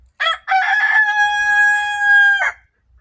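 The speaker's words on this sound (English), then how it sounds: "Roosters." A single rooster crows up close, loud and clear: a short rising call followed by a long sustained, slightly wavering note that cuts off abruptly.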